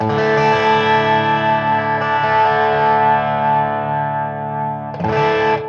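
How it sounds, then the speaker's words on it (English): A bright, slightly harsh, spiky Squier electric guitar chord on the bridge pickup rings out with distortion and sustains, then a fresh strum hits near the end; loud, close, no voices. "I actually like the bridge pickup, it's really spiky."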